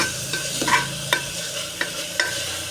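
Drumstick vegetable pieces are stirred and sautéed in masala inside a pressure cooker, a soft continuous sizzle punctuated by several sharp scraping knocks of a spoon against the metal pot.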